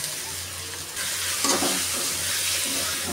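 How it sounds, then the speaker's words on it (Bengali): Jute leaf greens frying with onions in a pan give a steady close sizzle under stirring, swelling a little louder midway, with no talking. "আমি সুন্দর করে ভাজা ভাজা করে নিলাম"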